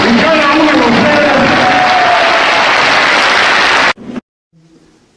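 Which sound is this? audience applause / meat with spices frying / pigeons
audience applause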